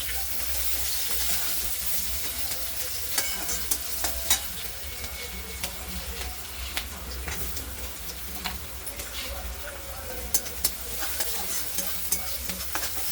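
Chopped onion, crushed garlic and cumin seeds with curry leaves frying in a pan, a continuous close sizzle with scattered crackles and pops and occasional stirring scrapes, no talk.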